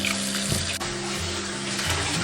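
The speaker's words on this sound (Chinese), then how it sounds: "先给它清洗干净。" Tap water runs steadily over pieces of shark meat being rinsed clean in a kitchen sink, a close, continuous splashing rush with no speech.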